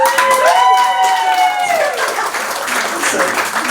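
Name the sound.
audience applause at listening party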